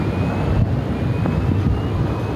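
A Boeing jet airliner taxies at Phoenix airport with a steady, loud engine rumble and a thin high whine, heard from nearby without a break and without talk.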